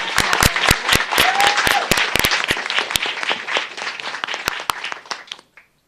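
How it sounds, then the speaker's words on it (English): Applause from an audience for a student team at a science competition event, dense clapping with sharp individual claps standing out, fading out near the end, with a brief whoop. "let's give it a big round of applause"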